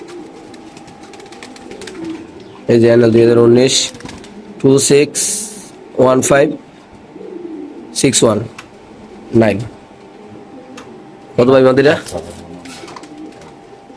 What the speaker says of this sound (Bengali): এখানে আছে একটা কবুতর, মাদি কবুতর।